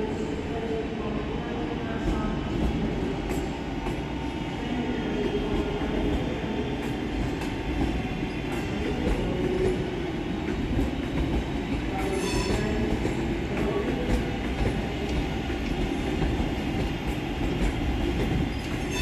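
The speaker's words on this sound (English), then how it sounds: "we see the departure of 323241 and 323220 with the 1145 West Midlands Railway service from Redditch to Four Oaks" Two West Midlands Railway class 323 electric units depart Birmingham New Street on a Redditch to Four Oaks service, with a steady close rumble of wheels, occasional squeal and clatter throughout, and no talk.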